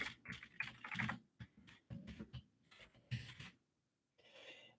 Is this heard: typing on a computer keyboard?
yes